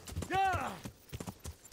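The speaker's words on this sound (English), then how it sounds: "Horse took a hit there." A horse whinnies with a rising, wavering cry, then hooves clip-clop in an irregular beat, from a horse in Kingdom Come: Deliverance, close and fairly loud.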